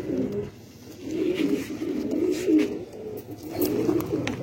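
Low-flyer pigeons, about 21 birds, coo continuously in low, throaty rolling calls, several overlapping at close range with a faint background hum.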